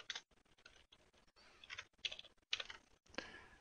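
A password is typed on a computer keyboard, a quick run of light key clicks in short bursts with brief pauses between them, faint and close, with no talking.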